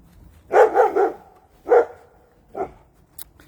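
A dog barks at passers-by walking on a road, a quick cluster of three close barks followed by two more spaced single barks, loud and near with quiet gaps between.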